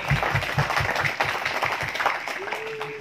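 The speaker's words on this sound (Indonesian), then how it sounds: "Tepuk tangan buat Ki Rajat Barmawi" Brief applause from an audience at a community organization ceremony, scattered claps with a voice and chatter mixed in, fairly close and moderately loud for a few seconds.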